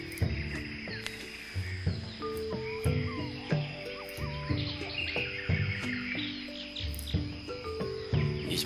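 A bird chirps and tweets repeatedly in the video game Hamilton's Great Adventure, bright calls scattered over a busy layered game soundtrack with a steady beat, with no voices.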